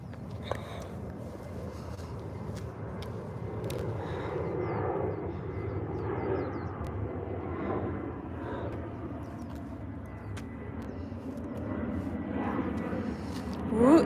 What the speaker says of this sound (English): It's noisy because you can hear the planes. The planes are everywhere.